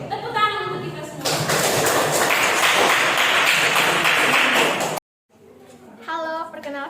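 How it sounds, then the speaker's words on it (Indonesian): A class of students claps in a dense, loud burst of applause lasting about four seconds, then cuts off suddenly. Talk comes before and after the clapping. "Tepuk tangan untuk kita semua."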